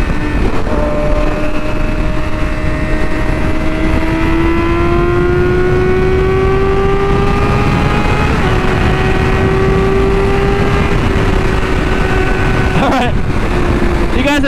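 A motorcycle engine drones steadily and loudly with a slowly rising pitch, then sweeps past close by near the end in a quick flyby.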